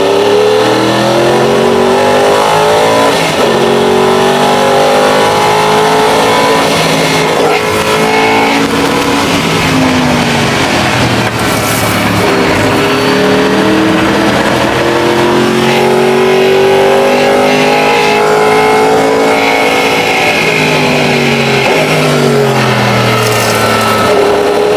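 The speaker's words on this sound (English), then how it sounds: "Hitting an incredible 400 kilometers down the Emozione straight at Le Mans, the Sauber C9 is an absolute legend" A Sauber Mercedes C9 race car with straight-cut gears blasts down the straight at Le Mans, its loud, continuous engine howl rising and falling through gear changes for the whole stretch, close and unbroken with no talk.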